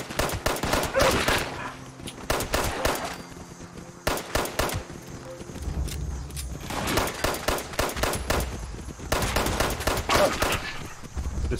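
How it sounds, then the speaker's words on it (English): 10mm pistol fire in Fallout 76 during a fight with mongrel dogs: rapid bursts of sharp shots in clustered volleys, pausing briefly between groups, loud and close over background game noise. "10 millimeter gun stinks. So weak."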